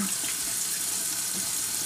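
Steady running water from a sink tap during a facial rinse, a continuous close hiss and splash that stays even throughout without any talk.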